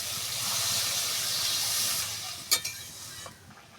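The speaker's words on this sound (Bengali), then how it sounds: "এবারে জল দিয়ে দেবো।" Water poured into a pan of hot oil with turmeric and ground spices for an egg curry sets off a loud, steady hiss and sizzle that fades away, followed by a few sharp clinks of utensils.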